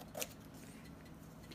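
A single quick, faint snip of scissors trimming fabric, alone in a quiet room with a low background hum.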